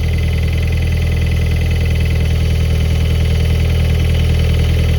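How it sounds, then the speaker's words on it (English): A Toyota MR2 engine with slightly bent connecting rods idles steadily with a continuous low rumble and a faint rhythmic knocking running through it, close and loud, with no voices. "that is the noise of very, very slightly bent rods."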